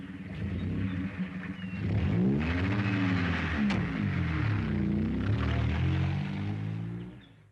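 1950s car engine idling, then revving and pulling away, with a loud rising and falling motor drone and gear changes that fade as the car drives off, no talking.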